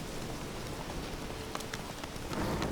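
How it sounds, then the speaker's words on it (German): Steady rain falls in The Witcher 3 as a continuous soft hiss, with a few sharper drip-like ticks in the middle and a slight swell near the end. "Ich habe gerade angefangen mit Regen und jetzt regnet es."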